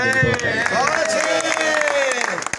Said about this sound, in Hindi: मास्टर सादिक साहब के लिए बहुत सारी तालियां।